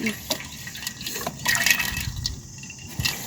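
Water poured into a cooking pot in an outdoor kitchen, a splashing, gurgling pour with a few louder surges, heard alongside faint background talk.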